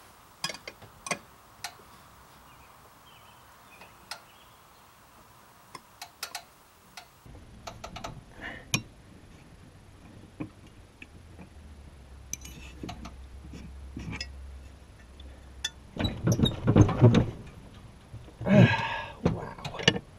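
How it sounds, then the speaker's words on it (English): A 5/8 wrench works loose the blade bolts on a jacked-up mower, sharp metallic ticks and clicks scattered across the clip, then heavier ratcheting clanks and a low hum building toward the end. "I got to take the blades off. And this is a 5/8 wrench."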